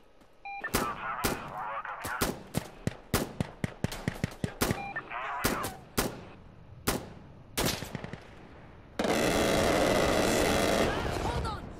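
Air-strafe gunfire in the video game Insurgency: Sandstorm: a run of sharp, loud individual shots and bursts at an uneven pace, ending in a sustained, roaring burst of rapid fire.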